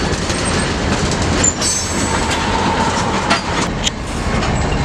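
A freight train pulled by common ES-44 locomotives rolls past at close range, a loud continuous rumble of wheels and cars with occasional high squeals and rattles, and no talking.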